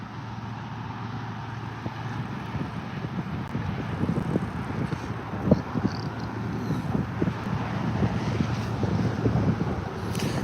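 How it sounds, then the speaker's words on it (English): Steady wind buffets the microphone beside the Columbia River during sturgeon fishing, a constant low rumbling roar with gusty thumps throughout and no speech. "Can you guys hear me okay with all that wind?"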